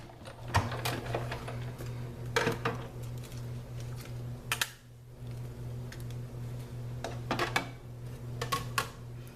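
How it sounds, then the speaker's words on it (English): A die cut machine cranks paper through a swirl-shaped die at a kitchen table, giving a steady mechanical hum with repeated sharp clicks and rattles, close and moderately loud. "We're going to die cut this fun little swirl that we're gonna layer over that."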